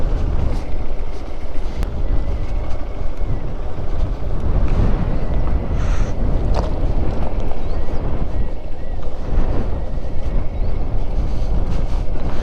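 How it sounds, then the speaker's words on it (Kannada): Strong wind blows across Kailasagiri hill, a continuous loud roaring rush that buffets the microphone throughout, with a voice partly buried beneath it. "ಸಕ್ಕದ ಗಾಳಿ ಬೀಸ್ತಾ ಇದೆ."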